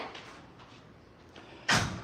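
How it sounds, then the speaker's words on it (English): A door is pushed shut indoors, giving one sharp, fairly loud closing thud near the end after a quiet stretch of room tone. "Please you shut the door."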